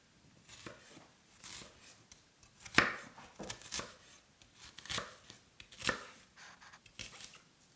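A knife slices through cooked leftover meat on a board in a home kitchen: a series of separate, crisp cutting strokes, close and fairly quiet, with a sharper cut near the middle and no talking.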